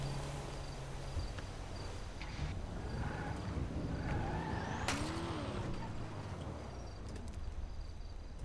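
A car drives past with engine noise and a brief tire squeal partway through, steady ambient hum throughout, no talking.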